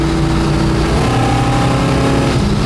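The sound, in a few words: 1965 Pontiac LeMans engine driving down the highway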